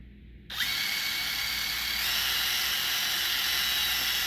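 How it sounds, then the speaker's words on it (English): A DeWalt cordless drill fitted with a 7/64 bit whines at a high, steady pitch while boring holes through aqua shoes, starting abruptly after a brief pause and running continuously, loud and close. "I'm gonna take my Dewalt with the 7/64 on there. I'm just gonna slowly go through."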